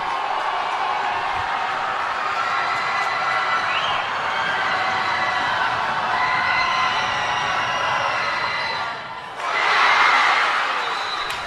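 A high school basketball crowd at Lakota West roars steadily after a free throw, then a sharper surge of cheering and whoops swells near the end.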